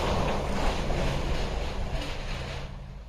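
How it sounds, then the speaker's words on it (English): A Sachs Dolmar 119 61cc chainsaw engine idles steadily up close, a continuous even rumble with no speech over it. "Is that not the most amazing idle you can hear on an engine?"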